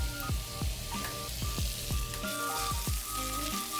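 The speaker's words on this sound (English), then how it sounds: "Now add in your onions. Listen to that sizzle." Loud, steady sizzling of onions frying in a hot pan, with crackles and pops scattered throughout.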